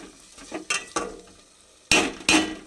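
Spices for handi mutton curry sizzle and fry softly in a pot over low heat, broken by a few sharp stirring scrapes and clatters of a spoon against the vessel.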